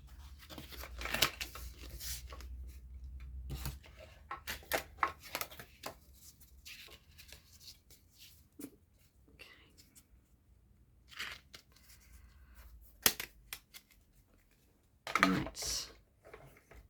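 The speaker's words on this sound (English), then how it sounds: "I'm just going to bring in my mini Stampin' Cut and Emboss machine, and let's run that through" Cardstock fed through a mini Stampin' Up Cut and Emboss machine: scattered crunching, ticking and rustling bursts at close range, with quiet gaps between and a few louder clacks near the end.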